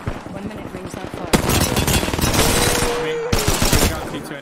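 Automatic gunfire in the Predator video game, a dense sustained burst mixed with other loud game action, with a sharp crack near the start and another near the end, under a voice.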